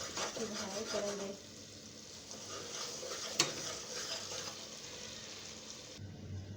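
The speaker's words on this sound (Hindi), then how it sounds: "अब कलौंजी डाल के इसको भूनेंगे ज़रा से, इसकी भुनाई करेंगे।" Nigella seeds fry with garlic and ginger in a pan on a home stove, a steady close sizzle with stirring scrapes and one sharp clink, continuing throughout.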